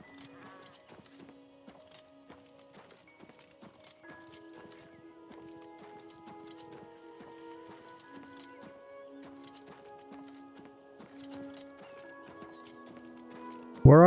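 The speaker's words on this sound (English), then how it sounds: "I hear a horse." Horse hooves clip-clop at a steady walking pace in Oblivion Remastered, with occasional neighing over quiet background music, ending in a sudden loud burst.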